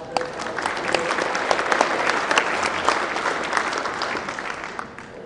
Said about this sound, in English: Give her a good round of applause for her.